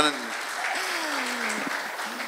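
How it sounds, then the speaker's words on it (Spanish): Applause from the audience at a panel discussion, steady moderate clapping running throughout while a voice speaks over it. "Lo pueden aplaudir también, porque aplaudieron a Juan."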